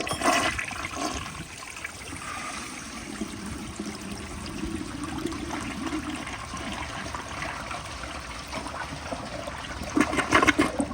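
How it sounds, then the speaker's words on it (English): A 1996 American Standard Cadet toilet flushes with a full tank, water rushing steadily and gurgling close by for the whole stretch, swelling briefly near the end. "I'm gonna give y'all another flush."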